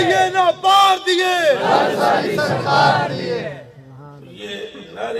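Religious gathering audience chanting a slogan together in loud, rhythmic unison, voices rising and falling in repeated bursts before fading toward the end.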